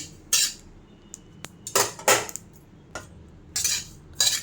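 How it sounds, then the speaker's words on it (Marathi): Poppy seeds being dry-roasted in a pan over low gas for chilli powder, heard as a few separate bursts of a utensil scraping and clinking against the pan between quiet pauses. "खसखस पण मी एकदम बारीक गॅसवर भाजून घेते"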